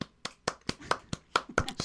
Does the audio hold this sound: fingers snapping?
yes